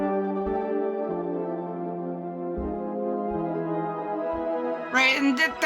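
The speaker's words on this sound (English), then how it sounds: "if we put it up to the Arturia EFX fragments, which is a granular engine" Synthesizer tone run through the Arturia Efx Fragments granular effect, a sustained harmonic drone with stepping low notes and a brief grainy, scattered burst near the end.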